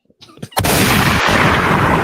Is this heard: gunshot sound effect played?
yes